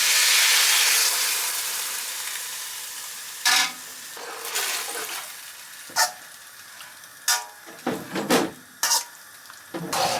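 A pan of sauce for a Mauritian upside-down bowl cooks with a soft sizzle and hiss that fades after the start, broken by several sharp clinks and scrapes of stirring utensils against the pan.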